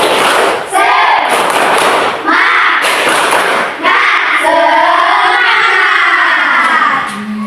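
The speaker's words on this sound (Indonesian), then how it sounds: "Tepuk semangat" A classroom of students does a loud rhythmic spirit clap (tepuk semangat) in repeated bursts, with the children chanting and shouting between the claps.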